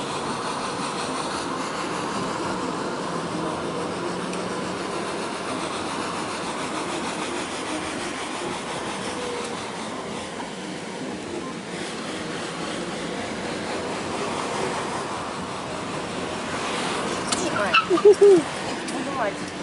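A car climbs a winding serpentine road in Tenerife, its engine and road noise a steady, even drone heard from inside the cabin, with people talking over it.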